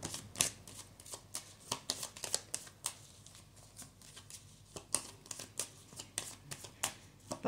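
Tarot cards are shuffled by hand in repeated quick riffles and slides, a close, soft papery rustle with steady bursts and no talking.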